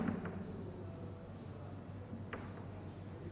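A pen scratches faint short strokes across paper while a grammar exercise is worked out, over a low background hum.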